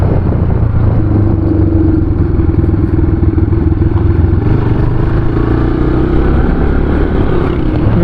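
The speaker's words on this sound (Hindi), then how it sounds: "लेकिन मैं इस टाइम बाइक चला रहा हूँ" A motorcycle ridden on a road near Dhirkot in Azad Kashmir, the engine a loud, steady, close drone mixed with wind buffeting, with no voices.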